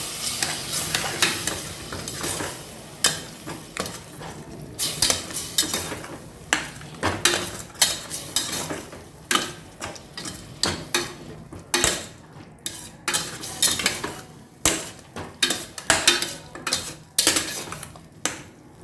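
A utensil stirs curd into mushroom biryani masala frying in a pan, with repeated close scraping clinks and clatters in an uneven rhythm over a steady sizzle; no one speaks.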